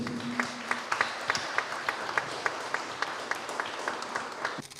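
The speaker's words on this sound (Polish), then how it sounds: "Wielkie brawa dla nich wszystkich." A regular, rhythmic clapping from a crowd honoring contest winners at a regional competition final, moderately quiet with evenly spaced accented beats.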